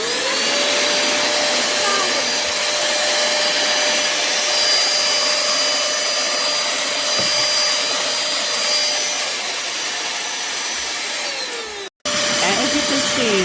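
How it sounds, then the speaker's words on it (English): A Pemacom 10KPa cordless portable handheld vacuum cleaner runs steadily with a loud, even whine and motor hum, cutting out briefly near the end and then starting again. "The vacuum actually seems really strong suction."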